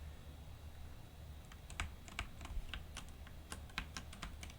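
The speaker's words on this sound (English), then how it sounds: "This keyboard is really loud." Rapid clicking keystrokes on a cheap mechanical keyboard, fairly quiet and close, beginning after a brief pause and continuing in irregular bursts with no voices.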